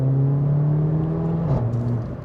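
Mercedes CLA 45 AMG engine heard from inside the cabin while driving in the Swiss Alps, a steady low hum that shifts pitch briefly partway through, muffled and moderately loud, alone without talk.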